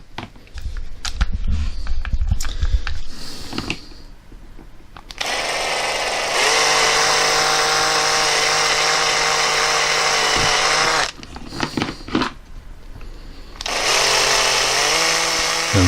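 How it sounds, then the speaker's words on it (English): Power drill whining steadily as it bores into the seam of a Buzz Saw Hordak action figure, long sustained high-pitched runs broken by short stop-start bursts and a brief pause. "I'm drilling it right on the seam"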